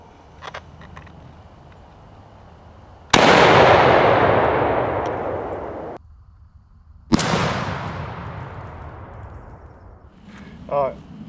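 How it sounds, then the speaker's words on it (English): A shotgun fires two loud blasts a few seconds apart during a lead versus TSS shell pattern test with Retay and SXP guns outdoors. Each boom trails off in a long fading echo, with brief faint sounds around them. "So we're gonna shoot them and see how they pattern."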